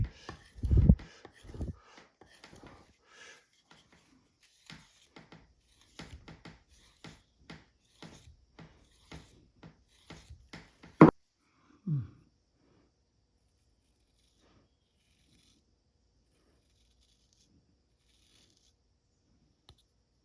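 A knife edge is stropped on a leather strop loaded with polishing compound, giving quiet, irregular rubbing strokes for about eleven seconds before near silence.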